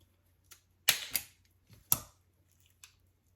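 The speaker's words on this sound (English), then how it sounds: "I'm just going to put my scissors in there" Scissors snip through the roots of an Aerogarden starter plug, giving a few sharp, close clicks and crunching cuts in quick succession, with quiet gaps between them.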